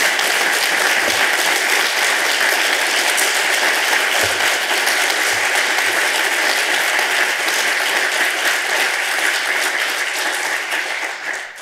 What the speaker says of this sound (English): That applause is for all of you because,